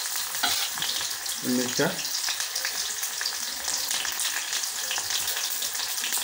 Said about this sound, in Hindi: ये मैंने तेल डाला, अभी प्याज डाल रहा हूँ।